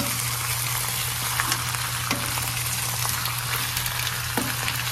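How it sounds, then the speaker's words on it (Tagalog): Pan sauté for humba, with steady close sizzling and frying crackle and faint scrapes of stirring, no voices. "igisa natin to"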